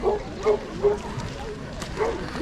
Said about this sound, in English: There's a couple more dogs here actually.